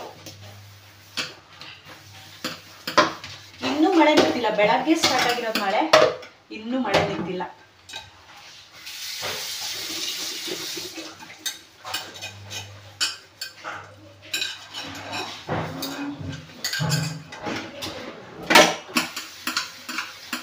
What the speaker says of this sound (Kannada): ನಾನು ಪಾತ್ರೆ ಎಲ್ಲ ತೊಳೆದ್ಬಿಟ್ಟು ಮತ್ತೆ ಸಿಗ್ತೀನಿ